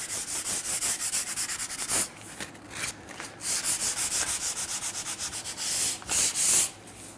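Hand sanding of a wooden stool with sandpaper, a rhythmic series of close, loud rubbing strokes back and forth, with a couple of short pauses and no speech.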